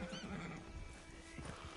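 A horse in a video game whinnies at the start, a quick quavering neigh up close, then fades into low ambient rumble and faint movement.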